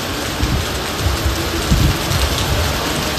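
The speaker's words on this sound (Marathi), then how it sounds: "पावसाचं वातावरण सगळीकडं" Steady, dense rain pours down during monsoon weather, a loud unbroken hiss of drops on surfaces with no voices.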